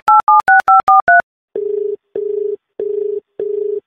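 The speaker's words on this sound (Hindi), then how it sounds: "तो मैं अभी फोन लगाऊंगा" A telephone call being placed: six quick dual-tone keypad beeps, then four long, even buzzing ringing tones separated by short gaps, loud and close with no voices.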